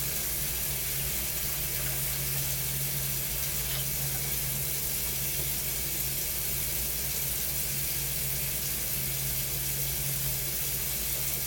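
Tap water pours steadily into a cardboard container at a sink, a constant close rushing hiss with a low hum underneath and no pauses.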